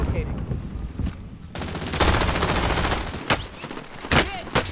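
Rapid automatic gunfire from a Call of Duty Cold War match, heard as dense bursts of loud shots with a few sharp single cracks and players talking underneath.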